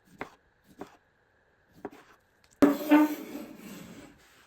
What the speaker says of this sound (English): then slice the tomato